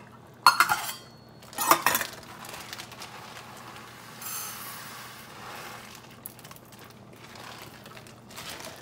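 Dry Thai jasmine white rice being scooped and measured with a cup, with two sharp clinking impacts early on, then softer rustling and pouring sounds over a steady low background hum.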